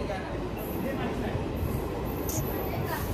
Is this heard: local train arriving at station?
yes